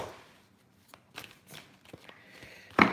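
A deck of tarot cards is shuffled by hand in a quiet room: a few soft, separate riffles and slides, ending in a sharper snap of cards.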